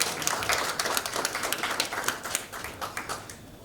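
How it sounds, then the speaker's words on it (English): Audience clapping at an inaugural lecture: steady, dense applause from many hands, fairly close and continuous, gradually thinning toward the end. "Can we please make him feel welcome by clapping some more?"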